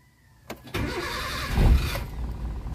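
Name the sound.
1997 Toyota Tamaraw FX engine starting and idling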